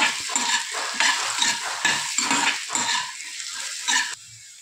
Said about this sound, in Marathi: आता चणे छान तेलामध्ये आपल्याला परतून घ्यायचे।